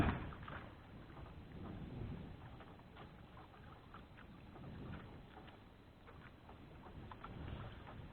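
A boat moves across open water, a low rumble under wind buffeting the microphone, steady throughout with no voices.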